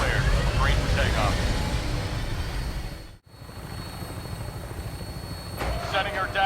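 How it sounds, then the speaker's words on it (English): Aircraft engine and rotor roar from a takeoff in the video game Fallout 4, loud and steady with a brief cut midway before the drone resumes, with voice chatter over it. "Instruments read all clear. Green for takeoff."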